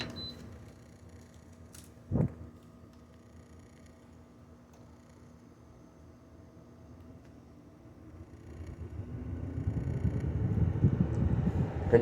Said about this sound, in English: The noise you can hear is my Rheem 3-ton central unit running.